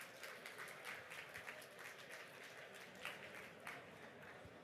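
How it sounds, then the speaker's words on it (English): A conference audience at a tech event claps for panelists, a faint, distant patter of scattered hands with some louder individual claps, no voices over it. "Please give a large round of applause for the panelists who traveled here."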